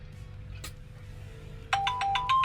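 A phone text message notification plays a short run of bright, repeated electronic chimes after a quiet stretch of room tone with a faint tap.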